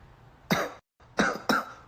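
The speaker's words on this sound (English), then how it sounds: "Cough, cough." Three sharp, close coughs from one person, the first a single burst followed by a brief silence, then two quick coughs in close succession.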